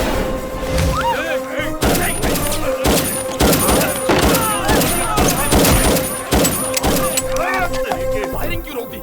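Rapid, repeated gunshots and thuds crack out over a tonal background. Voices are heard among the shots.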